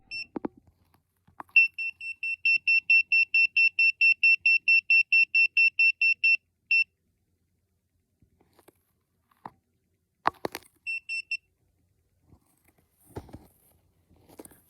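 An EMF tester held near a phone sounds a rapid run of regular electronic beeps for about five seconds, then a short second burst later, close and clear against near silence.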